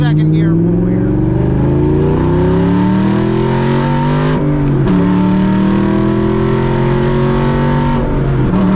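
A Factory Five Shelby Daytona kit car accelerates hard in second gear, heard from inside the cabin; its loud engine note climbs steadily, dips briefly midway, then keeps rising.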